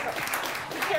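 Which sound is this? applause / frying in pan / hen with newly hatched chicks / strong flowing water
applause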